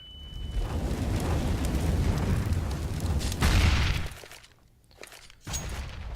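A grenade blast in CS:GO during a FaZe Clan versus Team Liquid esports final: a loud, rumbling broadband roar swells to a heavy boom, then drops sharply into near silence before a short burst of noise returns.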